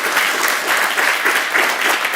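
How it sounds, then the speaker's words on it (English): Steady, dense applause from a lecture audience thanking the speaker after a talk on the Israel-Palestine conflict, filling the whole moment with even, continuous clapping and no voices. "So, give Tjeerd, please, a warm applause."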